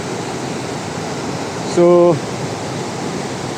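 Water rushes at Kudengrim waterfall in a constant, loud, even roar, and someone briefly speaks over it partway through.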